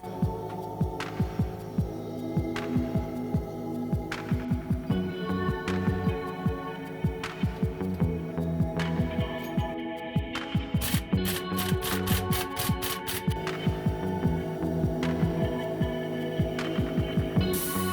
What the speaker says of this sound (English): we just grabbed our air tool and 1 second later, bolt is out